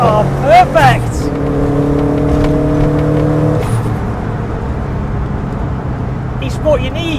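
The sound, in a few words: loud engine of a 4x4 VW Golf GTI Mk2 with Subaru drivetrain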